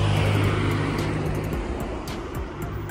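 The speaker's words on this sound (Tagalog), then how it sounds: "Maraming sasakyan." Cars on a road in the Czech Republic pass by in a steady stream, an engine rumble and tire roar that eases off slightly toward the end, with no talking.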